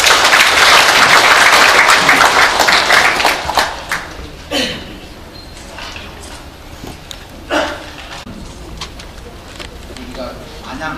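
Audience applause fills a hall at a Cheongju economic forum ceremony as the chairman is called up, a loud dense burst of clapping that fades over a few seconds, followed by scattered faint noises and speech.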